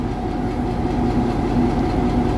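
A train at a railroad museum idling with a loud steady mechanical rumble and low hum, a continuous drone with faint tonal whines as air and hydraulic pressure shift.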